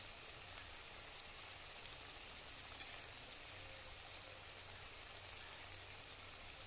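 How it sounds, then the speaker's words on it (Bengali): Pumpkin pakoras in gram-flour batter frying in oil over a low flame, giving a faint, even, rain-like hiss with a few tiny pops. "কিছুটা সময় নিয়ে ভাজতে হবে।"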